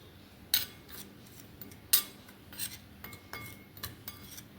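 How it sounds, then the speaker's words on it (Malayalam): A spoon clinks and scrapes against a bowl while spice powder and salt are stirred together, giving a few sharp metallic strikes followed by lighter scraping taps, close and fairly quiet with no talk. "ഇത് നന്നായിട്ടൊന്ന് മിക്സ് ചെയ്ത് കൊടുക്കുക."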